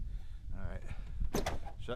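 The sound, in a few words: truck door closing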